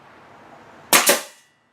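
A nail gun fires a nail with a sharp, loud double crack, two close bangs a split second apart that end in a brief fading tail, after a low hum and then silence.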